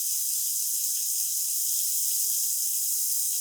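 Steady, bright hiss of an Oklahoma onion burger steaming and sizzling on a hot griddle under a bun with cheese and caramelizing onions, continuous and close with no breaks.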